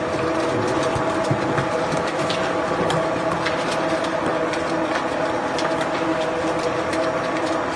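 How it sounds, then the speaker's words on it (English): A twin-shaft shredder tearing through a plastic IBC tank gives a loud, continuous industrial grind, with steady mechanical churning and dense crackling and rattling of broken plastic throughout. "This twin-shaft shredder chomps an IBC tank like a hungry alligator after skipping lunch."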